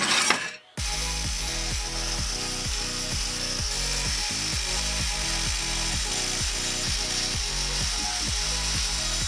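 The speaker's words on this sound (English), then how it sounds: "Now we're just going to skim down them, so that we can bend them a little bit more precisely" A power tool grinds down metal suspension brackets for a mid-engine Audi kit car, a steady close rasping drone with a regular stroking pulse throughout, following a brief start-up burst, with no talk.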